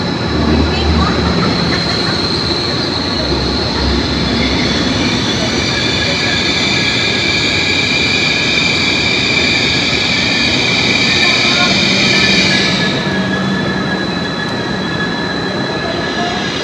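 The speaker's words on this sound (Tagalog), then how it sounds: "Ito na yung train namin." Train arriving at Kiel station in Germany, a loud sustained rumble of rolling wagons with a high wheel squeal that holds steady and then drops away near the end, with voices talking faintly in the background.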